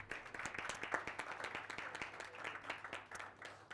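An audience at a media innovation summit applauding, dense rapid clapping from many hands sounding moderately distant and steady throughout.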